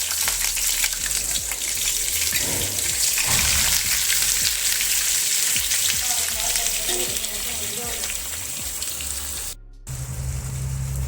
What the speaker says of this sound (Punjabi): ਤੇਲ ਗਰਮ ਹੋ ਗਿਆ ਤੇ ਹੁਣ ਮੈਂ ਫਰਾਈ ਕਰ ਲਵਾਂਗੀ ਸਬਜ਼ੀਆਂ